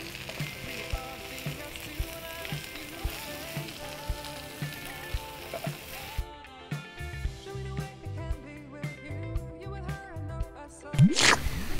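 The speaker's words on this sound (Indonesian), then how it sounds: "kita masukin jamurnya untuk kita tumis" Mushrooms sauté in a pan with salt, a steady soft sizzle under background music, then the pan goes quieter with scattered crackles and a brief scrape of stirring near the end.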